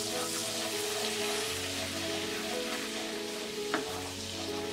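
Kashmiri red chilli powder being stirred into melted butter in a pan: a steady, close sizzle with soft scraping from stirring throughout and one brief clink near the end.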